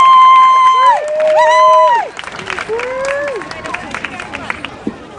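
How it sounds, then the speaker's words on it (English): An audience at an inaugural festival cheers and applauds as a singer is welcomed onstage; two loud, rising-and-falling whooping voices ring out over crowd noise, followed by scattered clapping and babble. "Big round of applause."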